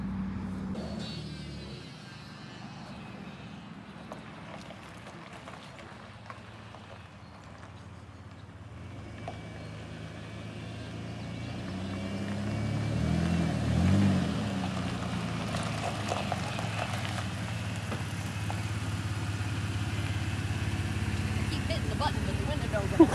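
A free used Ford Ranger pickup with 152,000 miles drives along, its low engine drone and road rumble building gradually over twenty-odd seconds, heard from inside the cab.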